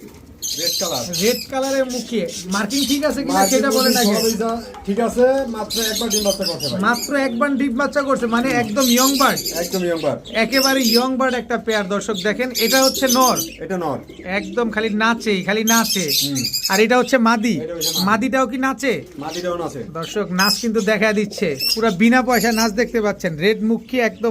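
Pigeons at a busy Bangladeshi pigeon market, with lakkha, king and shirting breeds on sale, squawking and chirping in near-constant overlapping calls that run under loud, continuous talk from a vendor and customers.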